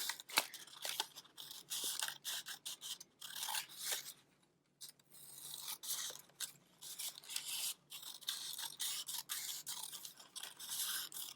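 Paper being cut with scissors for a rainbow bookmark craft, a steady run of close, dry snips and rasping strokes with a short pause midway, no talking.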